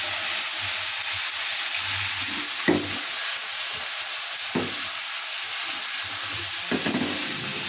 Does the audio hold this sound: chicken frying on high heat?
yes